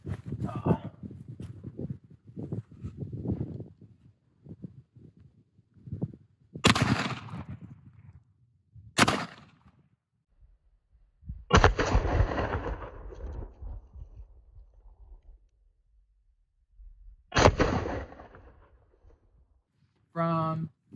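Gunshots strike paint bottles set on a black target outdoors, several sharp cracks spaced seconds apart, each with a short splashing or rumbling tail, between stretches of quiet talk.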